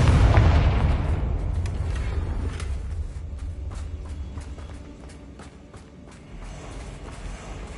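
Confringo blast spell in Hogwarts Legacy: a heavy explosive boom opens loud and low, then a rumbling roar of debris and ambient battle noise trails off over several seconds, with no talk.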